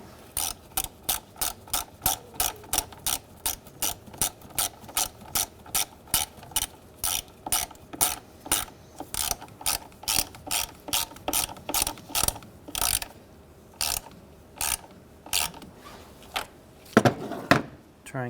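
Ratchet clicking steadily as it tightens the negative battery terminal on a 2003-2011 Honda Element, a long run of close, evenly spaced clicks that slows and loosens near the end with a final louder clunk.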